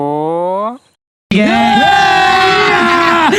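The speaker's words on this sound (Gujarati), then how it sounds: "મંદિરની સામે ફૂલ ભીડ છે" Crowd noise at Salangpur Hanuman temple, a loud, dense roar of many voices chanting and shouting, following a brief tonal sound and a short silence, then sustained and close.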